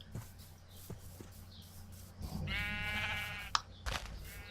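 Sheep in Minecraft bleat over a low background hum, one clear wavering bleat standing out midway with a sharp click after it, fairly quiet and with no voices.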